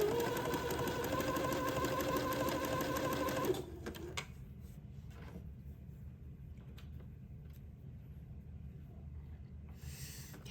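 A sewing machine hums rapidly and steadily while joining lace edges butted together, running loud and close for a few seconds before stopping, leaving quiet handling noises.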